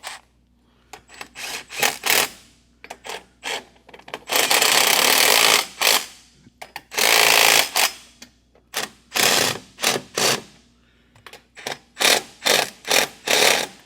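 Motorcycle front fender bolts being tightened, close and loud: bursts of rapid mechanical whirring from a power tool, some long and some short, broken by pauses and small clicks.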